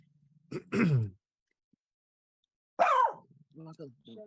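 A short, harsh cough-like throat clear sounds nearby, followed after a pause by another rough vocal burst and a few quieter grunts.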